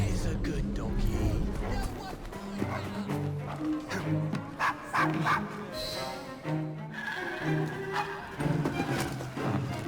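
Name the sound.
dog barking in Assassin's Creed Syndicate video game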